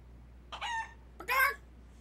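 Two short, sharp chicken squawks from a video game chicken in Yakuza: Like a Dragon, close and distinct, separated by a brief pause over a quiet background.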